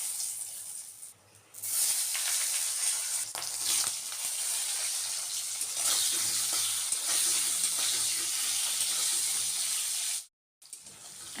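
Panch phoron, bay leaf and dried red chillies hit hot mustard-style oil left from frying cauliflower in a pan, giving a steady loud sizzle that runs throughout with brief pauses, no voices.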